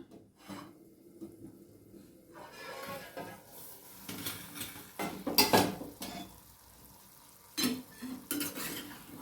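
A utensil scrapes and stirs chicken cooking without added water in a sizzling pan in irregular bursts, with clinks of metal against the pan.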